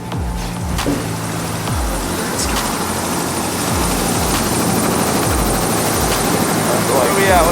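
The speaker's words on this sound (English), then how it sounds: "This is a helicopter, actually. We're on a helicopter. We're on a helicopter right now." A helicopter flying over downtown Chicago, heard from inside the cabin as a loud, steady rotor thump with regular pulsing beats under a constant turbine whine.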